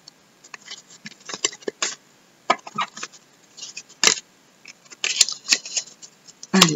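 A deck of tarot cards is cut and tidied by hand, giving close, crisp shuffles, slaps and riffling flicks in irregular bursts with short pauses between.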